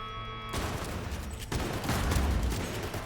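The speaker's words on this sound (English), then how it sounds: "I can shoot the targets more than once." Gunfire from shooting at targets on a range in the video game Cyberpunk 2077: loud, dense, sustained bursts of rapid shots with no talking over them.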